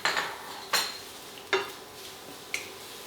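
A utensil scrapes and clinks against a pan as red Thai curry paste is stirred, four distinct knocks spread over a few seconds with faint sizzling between, close and moderately loud with no voices.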